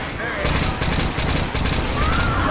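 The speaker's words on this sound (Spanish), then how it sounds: "Encima le disparo a Reyes." Rapid bursts of automatic gunfire in the video game Left 4 Dead 2, dense crackling volleys close and loud, with a voice speaking underneath.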